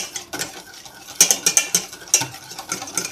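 A utensil briskly beats bechamel white sauce in a pan, a run of rapid clicking and scraping strokes, sparse at first and then quick and rhythmic, close up with no talk.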